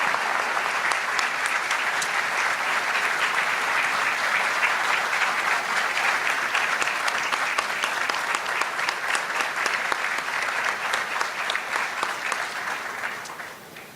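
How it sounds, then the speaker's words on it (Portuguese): Sustained audience applause greets an arriving guest at an education and ethics panel, a thick, even clapping that holds steady for many seconds before tapering slightly at the close. "Palmas para ela."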